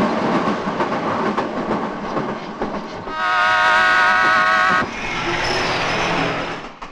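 A train clatters along the rails in Bombay, loud and steady, and a sustained tonal horn-like blare rises over the rumble midway before the rolling noise carries on.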